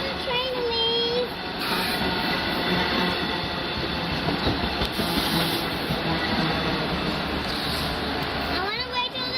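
A Long Island Rail Road train, the Cannonball, rumbles at Westhampton station with steady wheel and engine noise, brief squeals and hiss, while people talk nearby.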